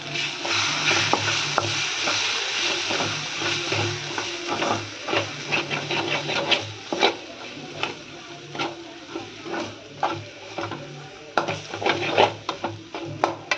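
Chili powder stirred into a pan for a cluster bean gravy: a steady, soft background sizzle with repeated spoon scrapes and clicks against the pan, growing more frequent and pronounced toward the end.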